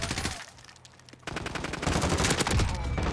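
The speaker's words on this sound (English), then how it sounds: "So we'll first shoot the guy." Rapid automatic gunfire in Call of Duty Warzone, a brief burst, a short lull, then a longer sustained stream of loud close shots.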